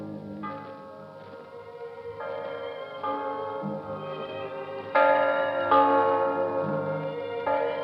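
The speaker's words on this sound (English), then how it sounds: "The bells of Christmas 1945 ring out clear and free around the world to you." Several church bells ring out at Christmas in overlapping peals, their tones layering and growing louder midway, sounding clear and resonant at a moderate distance.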